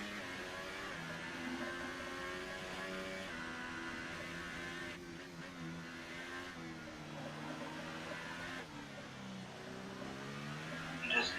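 Racing car engine in F1 2018 during a qualifying flying lap at Monaco, a steady high-pitched whine running throughout, with gear-change shifts in tone and a short burst near the end, without any talk.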